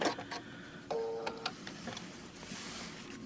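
A sewing machine quilt tacks a few stitches near a seam on a quilt made from the Oklahoma pattern and a panel, giving short quiet bursts of mechanical clatter between pauses.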